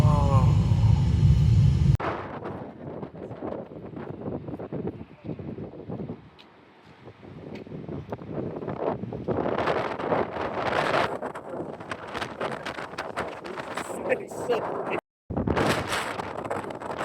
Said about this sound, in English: After being brutally assaulted by the wind